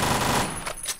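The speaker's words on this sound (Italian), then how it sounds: "Ma da dove cazzarola mi spari che non ti vedo?" Gunfire in the shooter game War Rock comes as a short burst of rapid shots that fades quickly.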